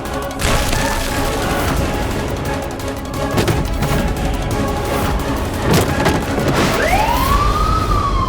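A fire brigade siren wails and rises in pitch near the end, cutting through a loud, continuous din of crashing and booming.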